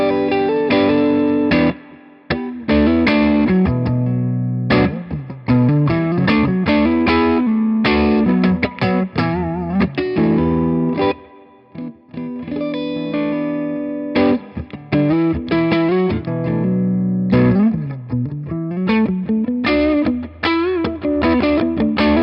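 A Yamaha SA2200 electric guitar played through its neck humbucker plays a melodic phrase with a warm, rounded tone and light distortion, notes ringing out in quick runs with brief pauses.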